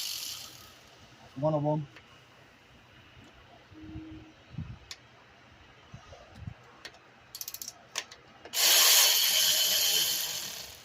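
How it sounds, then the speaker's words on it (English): Ten-millimeter bolts are worked loose from a bracket on a 2003-2007 Honda Accord during a valve cover gasket job. Scattered tool clicks, a short ratchet burst and metal rubs are heard, and a loud hiss comes near the end, with brief talk. "Let's take those 10 millimeter bolts out."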